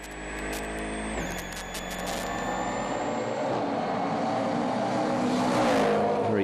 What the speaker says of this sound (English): Very sick-sounding Fiesta there